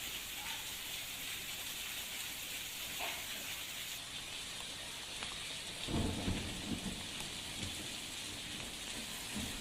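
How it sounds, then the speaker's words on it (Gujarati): Heavy monsoon rain pours over a rural area near Dhari in Gir, Amreli, as a dense continuous hiss, joined near the middle by a deep rumble of thunder. "ધારી ગીરના ગ્રામ્ય વિસ્તારમાં ભારે વરસાદ વરસ્યો છે"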